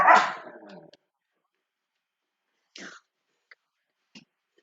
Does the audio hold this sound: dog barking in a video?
yes